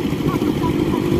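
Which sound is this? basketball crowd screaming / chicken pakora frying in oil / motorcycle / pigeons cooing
motorcycle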